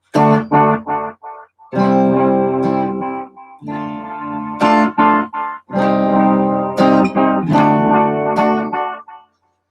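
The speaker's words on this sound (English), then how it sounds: "you've got the Echoplex version" Electric guitar played through an Echoplex-style echo effect, with loud distorted chords and short phrases that repeat and trail off in echoes, separated by brief silences, and no talking.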